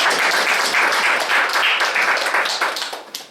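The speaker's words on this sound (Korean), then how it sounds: "박수로 부탁드립니다." An indoor audience at a 2016 contest event claps loudly and steadily, then the applause thins and fades toward the end.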